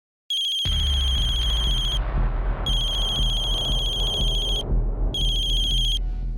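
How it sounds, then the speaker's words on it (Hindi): Mobile phone ringtone ringing in a home drama scene, a bright electronic tone sounding in three repeated bursts with short gaps, over a low background hum. "तुम्हें जब भी इसका फोन आता है तुम फोन काट देते हो।"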